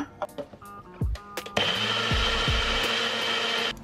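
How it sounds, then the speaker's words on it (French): A few clicks and knocks, then a blender switches on and whirs steadily at high speed blending mango with water, loud and close. "je vais venir mixer ma mangue avec l'eau"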